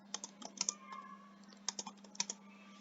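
Computer keyboard typing in a quiet room, a run of crisp, close key clicks in short irregular bursts with brief pauses, a steady low hum underneath.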